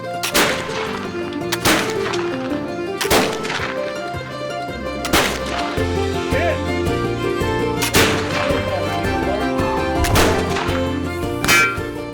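Rifle shots ring out at an outdoor shooting range, several sharp loud cracks spaced a few seconds apart, each followed by a brief echoing tail over steady background noise.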